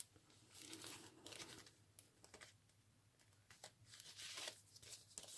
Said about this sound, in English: That's grease-proof paper that I've coffee dyed. It gives it a nice crinkling sound.